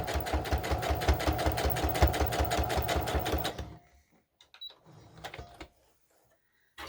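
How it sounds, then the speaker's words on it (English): A domestic sewing machine stitches through the thick layers of a doll's Victorian bodice seam, a loud, steady rapid thumping that labours bumpily for over three seconds, then stops, leaving faint handling clicks and rustles. "That bumpy noise is just because it's sewing through all the thickness of the last seam."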